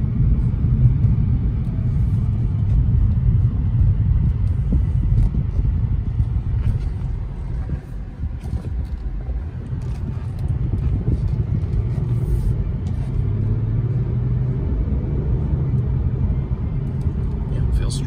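A 2016 Audi A6 3.0T Premium Plus drives along with a low, steady engine rumble and road noise, accelerating at under half throttle while someone talks over it.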